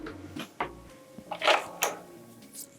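A false drawer opens or closes in the kitchen of a Torus RV 17.9ft single-axle off-road caravan, giving access to the water tanks. Several short wooden knocks and slides sound nearby in a quiet interior.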